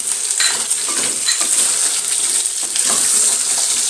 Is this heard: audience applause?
no